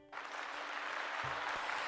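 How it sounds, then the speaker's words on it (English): A small group claps and cheers continuously after reacting to something gross during a tabletop role-playing game session, with steady, close applause that begins abruptly and carries on throughout. "No, we still clap."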